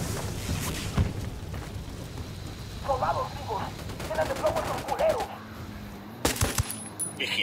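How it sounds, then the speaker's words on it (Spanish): Gunshots and machine-gun bursts in the video game Ghost Recon Wildlands, sharp cracks and rattling volleys at moderate distance over a steady background, with brief voices in between. "Disparo a estos cabronazos."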